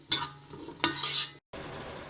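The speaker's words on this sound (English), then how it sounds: "So we just throw all of this in and just let it saute for about 2-3 minutes." Tomatoes and spices sauté in a pan for Indian tomato soup, with two short bursts of scraping stirring over a soft sizzle, a brief gap, then a steady low frying hiss.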